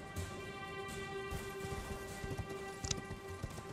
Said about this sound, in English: something bubbling in the water there.